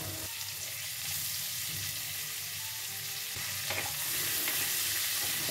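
Onions frying in a pan with whole garam masala, a soft steady sizzle with stirring scrapes and a few utensil knocks, growing a little louder near the end, no speech.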